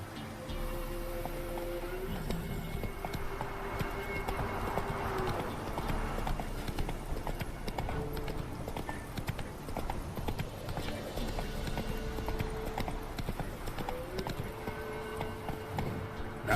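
Horse hooves clip-clop steadily at a gallop in the Witcher 3 video game, a continuous rhythmic beat over layered game music and ambience, with a brief whinny.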